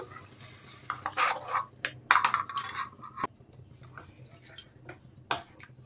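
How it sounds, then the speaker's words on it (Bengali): A spoonful of cornflour is stirred into water in a bowl for chilli momo sauce, giving quiet, intermittent spoon clinks, wet swishes and small drips against a near-silent background. "দেখেন কর্নফ্লাওয়ারটা জলে গুলে দিচ্ছি"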